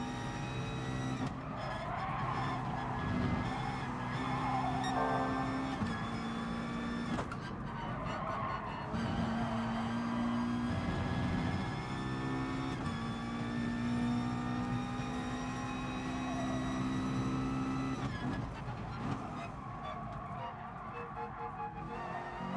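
A race car engine in GT Sport revs hard under short-shifted gear changes, steady high engine whine dropping in pitch at each shift, with tyre squeal and clattering bursts between, loud and continuous throughout.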